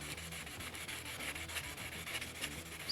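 Wet sanding by hand with 320 grit paper on a block, using Eastwood pre-painting prep solvent over filler on car body panels: a steady, close, continuous rasping rub with regular back-and-forth strokes and no talk.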